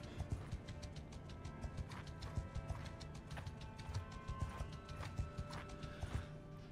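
Hooves clatter in Mount & Blade II as a horse gallops, with a steady driving rhythm of close, fairly quiet hoofbeats over a low background hum.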